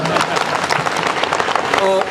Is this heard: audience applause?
yes